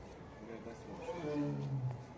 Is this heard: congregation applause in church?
no